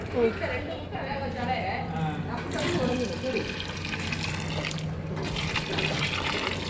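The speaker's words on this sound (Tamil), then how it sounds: "தேங்காய் பால் ஊற்றுறோம்." Coconut milk is poured into a pot of cooked, tender meat curry, a soft continuous liquid pour and gurgle running beneath a person talking.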